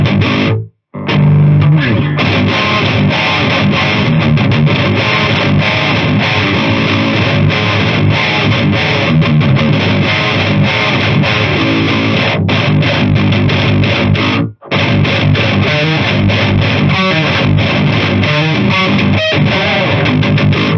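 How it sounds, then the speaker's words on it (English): Electric guitar run through a distortion pedal, played continuously with crisp, clean-edged gain and bright upper twang, loud and dense throughout with two brief stops. "So that is a very crisp, clean type of distortion."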